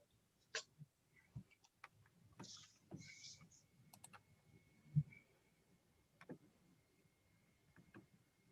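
Quiet, scattered clicks of typing on a computer keyboard tap out at an irregular pace in a hushed room, with faint background hum.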